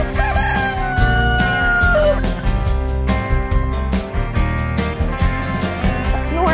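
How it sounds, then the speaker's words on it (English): A pet rooster with an overgrown parrot-like beak gives one loud, close crow, heard over steady background music. "He is a very good rooster."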